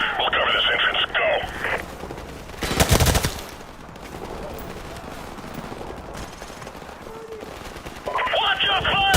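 Gunfire in Call of Duty Modern Warfare Remastered: one loud, sharp burst near the middle, set in a noisy combat background, with voices talking at the beginning and end.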